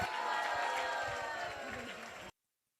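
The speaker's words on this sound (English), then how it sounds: "Let's give a round of applause." Crowd applause at a Vyasa Puja celebration, a broad, steady wash of clapping mixed with murmuring voices that fades a little and then cuts off abruptly.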